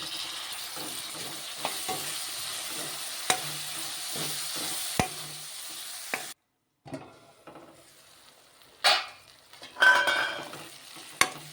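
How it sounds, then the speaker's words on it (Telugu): Onion and tomato pieces fry in a pan, with a steady sizzle and repeated stirring scrapes that stop for a moment of near silence, then return as louder bursts of stirring and sizzling. "ఉల్లిపాయ బాగా ఫ్రై అయిపోయింది కదండి ఇప్పుడు ఒక టమాటా చిన్నగా ముక్కలు కోసుకొని వేసుకోవాలన్నమాట"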